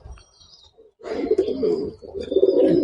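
A green Madras pigeon coos in a pigeon loft, two loud, close throaty rolling coos following a brief quiet start, with a faint chirp above and no talking.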